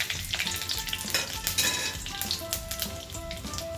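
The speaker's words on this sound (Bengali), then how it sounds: "দিয়ে জিরেটাকে ভালো করে ভেজে নেব।" Bay leaf and whole cumin seeds frying in oil over a low flame, a busy crackling sizzle with small pops and light stirring scrapes, close and steady.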